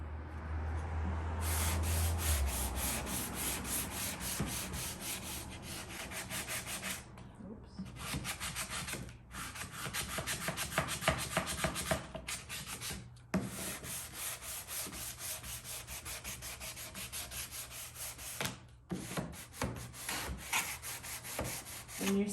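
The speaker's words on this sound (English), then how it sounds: "first I'm going to sand it with fine sandpaper" Steady, continuous scratchy rubbing of fine sandpaper on a wooden cabinet, sanding with the grain, close and fairly loud, with brief pauses between strokes.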